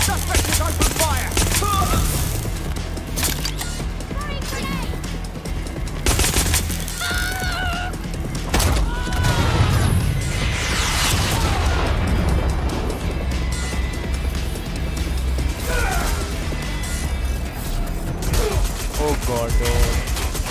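Gunfire rattles through a Watch Dogs: Legion video game scene, repeated loud shots and bursts over about twenty seconds mixed with game effects and voices.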